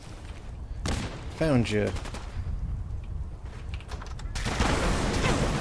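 Gunfire in the video game Fallout 4, with bursts of rapid automatic shots and single loud cracks mixed with other game effects, while players talk over the action.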